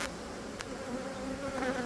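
A packed honey bee hive hums with a steady, close buzzing drone during an inspection, with a brief click early on.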